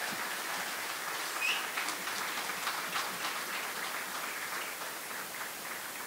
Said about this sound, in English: We have Aimee McMahon up from Tulla, so give her a big round of applause there.